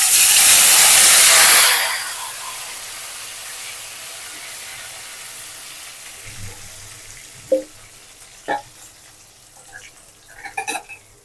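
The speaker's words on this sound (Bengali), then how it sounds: "এখন ভেজে নিব কসুর মাথিগুলো।" Taro stems rubbed with salt and turmeric hit hot oil in a loud sizzling burst that lasts about a second and a half, then settle into a quiet steady hiss broken by a few sharp clinks near the end.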